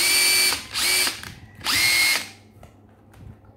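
Makita cordless drill on an 18V battery revving in three loud, close bursts of high whirring, the last one shorter, separated by brief quiet gaps with no talking.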